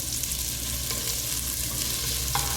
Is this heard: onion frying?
yes